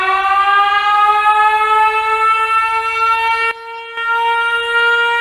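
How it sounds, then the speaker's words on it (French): A loud, sustained wailing siren in a Godzilla game, with a rising pitch, cutting out briefly near the end before sounding again. "Encore cette sirène?"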